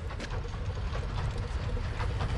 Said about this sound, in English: I could just hear the train.